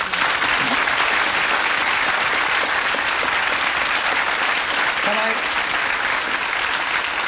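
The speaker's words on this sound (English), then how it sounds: "Everybody will applaud that." Studio audience applause on a light-entertainment TV talk show, a loud, dense, sustained clapping from a large crowd that holds steady throughout, with a voice faintly heard under it.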